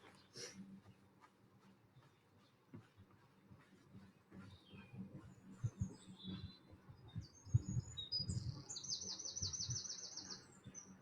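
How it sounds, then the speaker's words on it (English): Outdoor bird song, with bright chirps and trills rising above rustling and footsteps of a jog, growing denser and louder toward the end, with a voice speaking. "Listen to the bird song."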